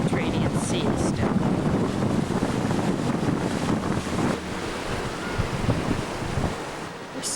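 Mediterranean Sea surf at Caesarea, a steady roar of waves mixed with heavy wind buffeting the microphone, dipping briefly in the middle, with faint talk in places.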